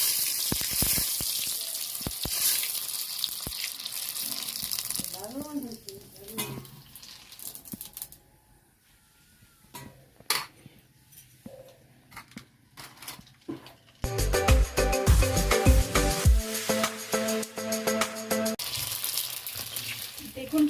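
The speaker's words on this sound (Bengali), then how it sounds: "কড়াইয়ে তেল গরম হয়ে গেছে, এখন আমরা ফুচকাগুলো ভেজে নিচ্ছি।" Fuchka puris frying in hot oil in a wok, a steady crackling sizzle with scattered sharp clicks and clatter of kitchen tools, quieting briefly midway before the busy frying noise returns louder.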